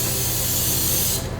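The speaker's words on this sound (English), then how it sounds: "Okay, so now finally we'll spray our pan." A short, close, loud hiss of cooking spray coats a baking pan, one continuous burst lasting just over a second before tapering off.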